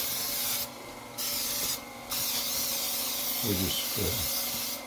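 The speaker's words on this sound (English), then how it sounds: "spray it with a little Pam" Two short hissing bursts of Pam cooking spray onto a cake baking pan, the first longer than the second, followed by a few quiet spoken words.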